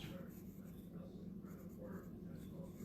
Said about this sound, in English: I'm just gonna draw, this is kind of like a fatter cylinder